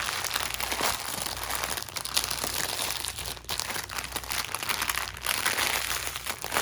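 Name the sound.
crinkling thick plastic bag while unboxing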